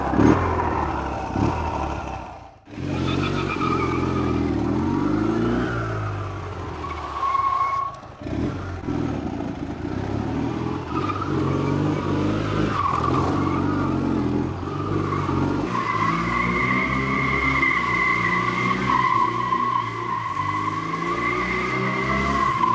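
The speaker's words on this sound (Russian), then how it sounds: "Такой вот мотоцикл" A stunt motorcycle with a two-spark-plug engine revs hard and skids, the engine note rising and falling with tire squeal over about twenty seconds, close and loud, with a brief cut-out early on.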